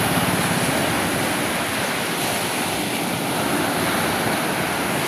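Loud, continuous roar of ocean surf crashing nearby, mixed with wind buffeting the microphone, no voices.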